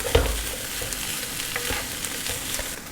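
Mixed fried rice stir-fried in a hot pan: a steady close sizzle with a few sharp utensil knocks and scrapes, and no voices.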